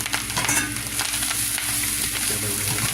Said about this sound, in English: I'm going to add the beef and the mushrooms back in here.